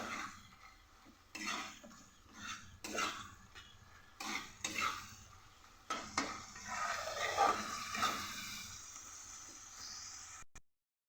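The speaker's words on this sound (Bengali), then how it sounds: "দেব হলুদ গুঁড়ো আর আরেকটু সামান্য পরিমাণ জল দিয়ে ভালো করে কষাবো।" Spices with turmeric, Kashmiri chili powder and a splash of water are stirred and fried in a pan, with repeated spatula scrapes and clinks over a soft sizzle, close up.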